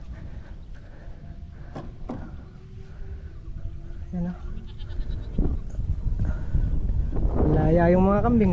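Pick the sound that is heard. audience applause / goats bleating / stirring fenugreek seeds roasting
goats bleating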